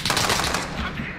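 A Kar98k rifle fires in a video game, a loud, close shot with a sharp blast that rings out and decays over about a second.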